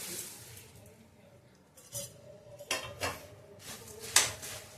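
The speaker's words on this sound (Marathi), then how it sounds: "मुरमुरे भाजत असताना सतत परतत राहायचं, कारण की मुरमुरे लगेच भाजले जातात।" Puffed rice roasting in a wok is turned with a spatula, giving intermittent scrapes and light metallic clinks that grow busier toward the end, close up over a soft background hiss.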